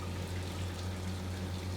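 Water runs from a tap on an RV fixture during tank sanitizing, a faint steady rushing stream over a low constant hum, with no voices.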